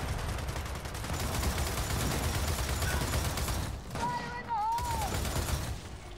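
Sustained bursts of gunfire from Gears of War 4 co-op play, loud and dense for several seconds, with a brief dip and some mechanical whirring and pitched game effects near the end.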